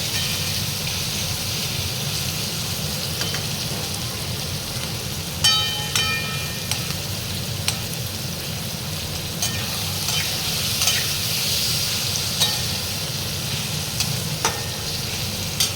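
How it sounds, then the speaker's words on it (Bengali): Vegetables for chilli chicken stir-frying in a hot pan, a steady close sizzle with scattered clinks of a spatula against the metal, no voices. "আর একটু ভাজবো, যাতে সবজিগুলো একটু ক্রাঞ্চি ভাবটা থাকে"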